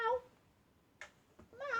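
A very fat pet house cat named Serenity meows twice at close range, a short cry at the start and a longer, rising meow at the end, with a quiet gap between.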